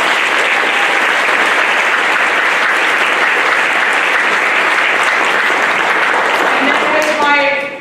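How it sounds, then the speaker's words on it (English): Loud, steady applause from an audience at a school band event honoring young band players, sustained dense clapping throughout, with a voice starting to speak as it fades at the end. "Please give them a round of applause"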